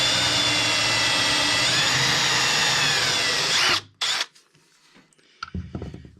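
A power drill whines steadily at high speed as it drives screws into a cherry wood end table, loud and close for nearly four seconds. It then stops abruptly, leaving faint clicks and handling sounds.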